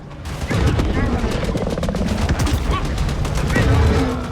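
Dense, continuous gunfire crackles in the Maneater video game, a loud fusillade of rapid shots and booms rolling on without pause.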